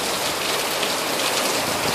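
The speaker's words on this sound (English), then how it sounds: "that's rain in Houston right there" Steady summer rain pours in Houston during a flash thunderstorm, a dense continuous hiss of drops on surfaces, close and even throughout with no voices.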